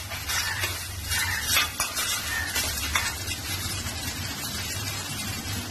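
Tomatoes are sautéed in a pan until soft, giving a continuous close sizzle with the rough scrape and clatter of a spoon stirring through them, and no one speaking.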